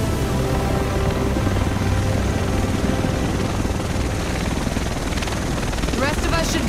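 Loud helicopter in The Division flying in over ruined Manhattan, a continuous heavy rotor roar building toward the end, with no talking over it.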